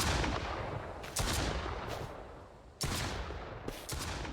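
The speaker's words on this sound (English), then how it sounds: "That's a gunshot." Several heavy gunshots from the video game Mist Survival boom close by at uneven intervals, each followed by a rumbling decay, with no talking.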